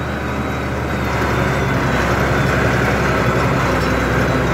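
A Valtra BH 180 tractor engine runs in a steady, loud, unbroken drone with a rough low rumble throughout and no voices over it.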